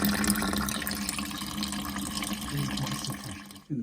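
Water from a drained Ariston boiler runs steadily through a chunky hose at the drain-off between the gas valve and cold water pipe, a continuous close rushing gush that cuts off briefly near the end.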